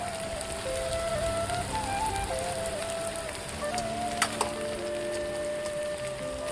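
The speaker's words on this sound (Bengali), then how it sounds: "এর মধ্যে ভাজা মাছগুলো এখন আমি দিয়ে দেবো" Fried local fish pieces dropped into a pan of sizzling vegetables for a village-style chorchori, giving a steady close crackle and hiss with a couple of sharp clicks near the end.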